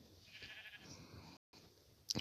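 A single sheep bleats in the video game Minecraft, a wavering, nasal cry, fairly faint, followed by a brief gap and a short sharp sound at the end.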